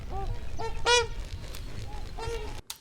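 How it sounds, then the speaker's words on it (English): Swans calling outdoors in a field recording, several honking, nasal calls with strong harmonics: a few short calls early, a louder burst near one second, then another call later, over steady low background rumble. "No, they're not geese. They were swans."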